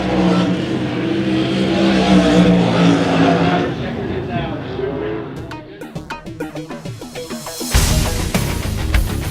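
358 sprint cars in a heat race roar past at a dirt track, engines surging and revving under a loud announcer, with sharp pulsing bursts and a final engine rush as the cars pass close by.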